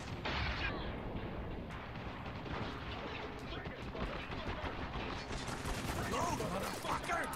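Rapid gunfire in Spec Ops: The Line, with dense bursts of automatic fire and scattered shots crackling steadily throughout, alongside a continuous wash of battle noise.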